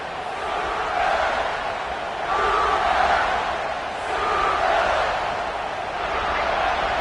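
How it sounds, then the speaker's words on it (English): A stadium crowd at a football game roars in sustained swelling waves, loud and continuous, with a commentator's voice running over it. "This crowd going to try to make life miserable for these guys."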